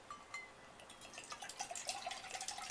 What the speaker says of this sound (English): we're going to pour our water to make our tea into our cup